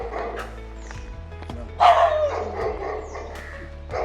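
A dog gives a few sharp barks and yips in Goa, one louder bark standing out midway, amid quiet outdoor background sounds.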